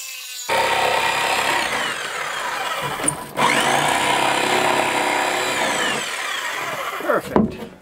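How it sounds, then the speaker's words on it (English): A jigsaw cuts through pipes for a root cellar cold air intake, a close, loud buzzing rasp running steadily for several seconds with a brief pause near the middle, then stopping amid clattering handling. "We're gonna cut them out with our jigsaw."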